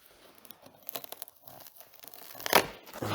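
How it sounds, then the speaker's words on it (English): Scissors snip and tear through packing foam close by, a series of irregular crinkly crunching cuts that build to a louder rip near the end. "all I'm going to do to get this out is to cut the foam"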